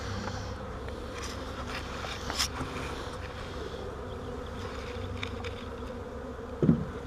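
Steady buzzing of honey bees around a swarm box drones throughout, a low continuous hum with a couple of brief louder bumps near the end.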